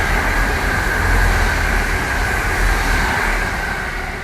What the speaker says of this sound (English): It's a fast London Marylebone service.